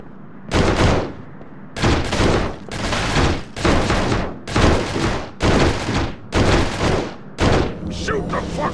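Gunfire in the video game Urban Chaos, a series of about eight loud, heavy bursts spaced roughly a second apart, each cutting off sharply, with brief gaps between.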